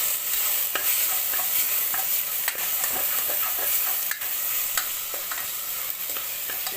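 Vegetables and chilli frying in a pan, a steady bright sizzle throughout, with scraping and stirring clinks at irregular intervals and no talking.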